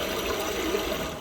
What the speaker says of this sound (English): Plays like this kind of like waterfall sound, so you have privacy while you're going to the bathroom.